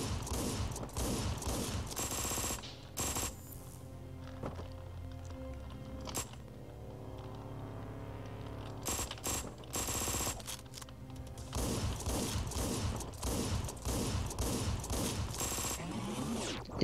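Bursts of loud, sharp gunfire, including shotgun blasts, from the game Hotline Miami 2, come in clustered volleys separated by quieter stretches with in-game background music.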